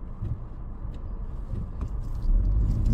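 A car rolling down a mountain road from a lookout in Montreal, a steady close engine and road rumble that swells slightly toward the end.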